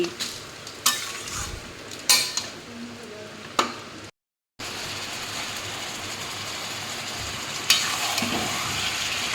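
Mutton with masala stirred in a pan, a spoon scraping and knocking against the metal a few times over a low background sizzle, close by and with no talking.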